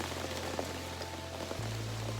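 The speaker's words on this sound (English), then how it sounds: "the actual rain has come in" Steady rain falls around an outdoor camping shelter on an October night, a constant close hiss of drops with a low hum beneath and no talking.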